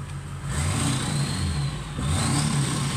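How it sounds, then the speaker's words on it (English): A car engine revs hard with turbo whine, in two loud surges. A high whistling tone rises over the deep engine drone. "Gotta love the turbo sounds"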